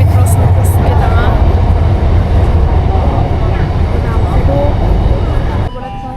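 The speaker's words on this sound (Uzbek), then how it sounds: "Sizlarga Shanxay metrosini ko'rsatib ketaman." A Shanghai metro train rumbles steadily and loudly throughout, with a low, continuous roar under a voice talking over it, easing off slightly near the end.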